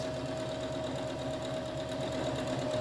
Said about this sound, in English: put the presser foot down, start sewing